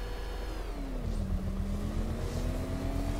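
Engine of a vehicle in Batman: Arkham Knight reversing, a steady mid-pitched drone that dips then holds a sustained tone, fairly close and continuous with a low rumble underneath, no voices.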